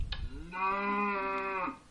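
A short synthesized cow moo produced by a scripting engine, apparently through a Tesla coil, sounds as one steady buzzing harmonic tone lasting under two seconds, clean and alone.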